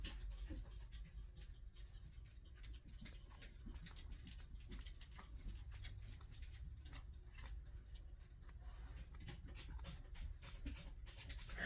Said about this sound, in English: Dogs are gross.